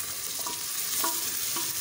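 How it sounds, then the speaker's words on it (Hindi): Whole black gram dal (sabut urad) roasts in a pan, giving a steady close-up sizzle with soft rhythmic scrapes and clicks of stirring every half second or so. "अब दो मिनट इसे भूनते हैं ना"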